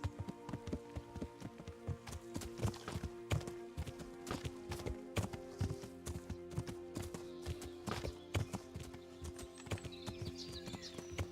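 Steady clip-clop of horse hooves in a rhythmic trot in the video game Kingdom Come: Deliverance, with a soft ambient hum beneath and occasional sharper taps.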